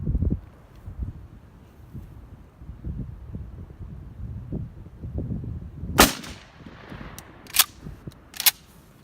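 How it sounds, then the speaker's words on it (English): A shotgun fired with a 3-inch Longbeard turkey load of number 5 shot at an outdoor range: three sharp, loud blasts in the latter part, the first strongest, following a stretch of faint rustling and breeze. "I'm going to shoot again number 5 shot, 3 inch, the longbeard"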